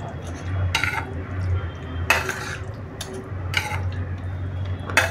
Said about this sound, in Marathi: आता आपण याच्यात आधी ढवळून घेऊ